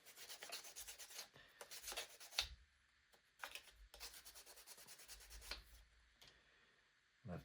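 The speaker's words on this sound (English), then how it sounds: "A little bit sanding would help too, I guess, first." Sandpaper rubs a part from a UGears wooden Podracer model kit in short back-and-forth strokes, close and crisp, pausing between bursts.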